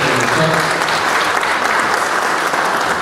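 Sustained applause from a crowd at a rural development forum, steady and dense clapping throughout with no pauses.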